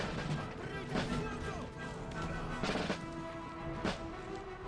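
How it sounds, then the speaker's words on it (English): Musket volleys crackle in the Empire: Total War battle, several sharp gunfire bursts standing out over a dense, continuous din of massed combat noise, with speech mixed in throughout. "Fire the volley."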